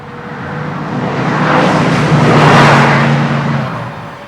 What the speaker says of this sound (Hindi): फिर जब देखा कि हाईवे खाली है तो हम स्पीड में गाड़ी चलाने लगे